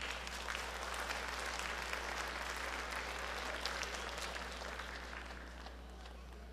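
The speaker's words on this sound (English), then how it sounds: "Please have a round of applause." A crowd at a community meeting in Trenton applauds, producing a steady, faint wash of dense clapping that fades slightly toward the end, with a low steady hum beneath.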